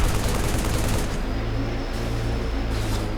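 Turret gunfire in the Halo video game, a dense, continuous roar of rapid shots that stays loud from start to finish, with no talk.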